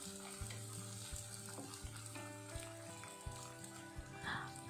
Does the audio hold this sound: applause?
no